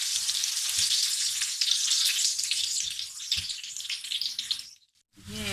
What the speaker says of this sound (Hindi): अभी एक साइड कम से कम 2 से 3 मिनट की होती रहेगी और बिल्कुल स्लो हीट पे ये फ्राई हो रही है